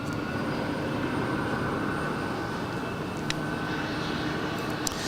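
An airliner taking off at Los Angeles airport, a steady distant engine roar and rumble that holds level throughout, with a couple of faint clicks.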